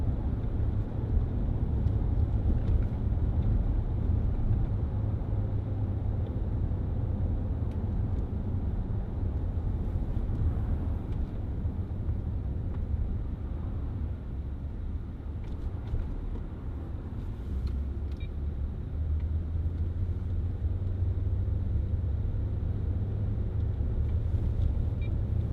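A 2010 Range Rover Sport 3.6 TDV8 HSE on a test drive, heard as a steady low cabin rumble of engine and road noise, constant and fairly quiet throughout with no speech.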